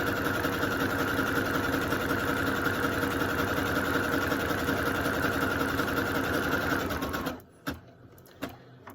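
A sewing machine stitches an appliqué candle on a Christmas table runner, running steadily and loudly for several seconds before stopping, followed by a few faint clicks.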